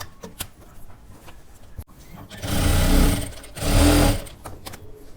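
A sewing machine stitches sharara fabric in two loud, rapid whirring bursts, with quieter clicks and handling noises before and between them.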